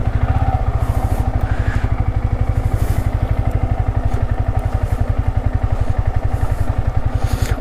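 A motorcycle engine chugs in a fast, steady, close beat as the bike is slowly turned around on a wet road near a waterfall in Kanyakumari, with occasional clatter and no talk.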